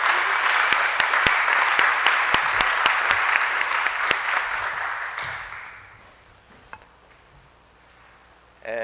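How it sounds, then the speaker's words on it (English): An audience at an honors celebration gives a loud, sustained round of applause with a few sharp, distinct claps. It fades out over several seconds into near quiet. "A round of applause for Addie."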